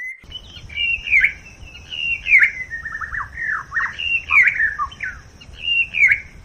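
A shama sings loud, sharp repeated calls with rising and falling whistled notes, imitating a red-wattled lapwing's shrill cry, close and clear over faint background noise.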